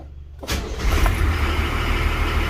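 A Nissan Patrol with an SD33 diesel engine starting after sitting, a brief crank catching into a steady, loud, rumbling idle that continues alone, close by.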